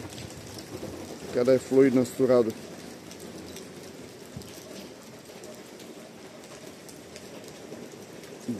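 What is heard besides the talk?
heavy rain at night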